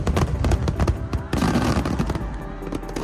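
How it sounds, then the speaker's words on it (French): A fireworks show over Nanchang, Jiangxi Province, China, on October 1 during bad weather sends out loud, continuous crackling and booming bursts close by with no pause. "Les mauvaises conditions météorologiques ont transformé le spectacle de feux d'artifice aux jumeaux de Nanchang, province de Jiangxi, Chine, le 1er octobre"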